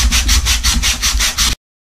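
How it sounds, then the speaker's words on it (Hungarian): Hand sanding of a rough surface, a rapid back-and-forth rasping in about seven even strokes, close and steady, then stopping abruptly. "ezt a rücskös felületét ezt lecsiszoljuk"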